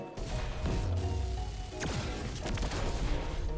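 Gunfire from shooting in the Anime Vanguards video game: loud, dense bursts of shots and crashing impacts running continuously, with sharp cracks standing out.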